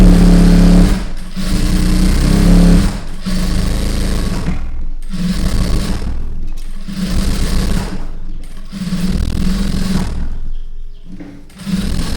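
A sewing machine stitches around old cloth in loud, close bursts of fast mechanical whirring, stopping briefly between runs several times, with no voices over it.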